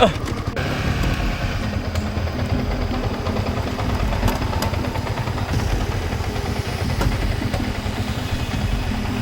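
A motorbike engine in the MotoGP 2020 video game hums and buzzes steadily, a continuous mid-pitched drone with a knocking texture, while a person talks over it.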